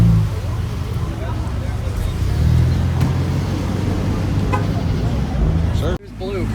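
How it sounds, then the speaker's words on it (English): A blue Chevrolet Corvette C5 hatchback rolls into a car meet, its engine a loud low rumble that swells and holds close by before cutting off sharply near the end, with crowd noise around it. "C5 rolling in, and it's not the FRC."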